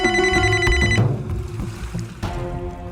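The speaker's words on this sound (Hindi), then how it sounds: "तो फिर मेरे रूम में ये किसका फोन बज रहा है?" A phone ringtone rings in a room at night, a bright repeating electronic melody that breaks off and then starts again, loud and close with no talking over it.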